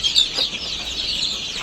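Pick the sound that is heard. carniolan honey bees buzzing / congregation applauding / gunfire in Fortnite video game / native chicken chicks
native chicken chicks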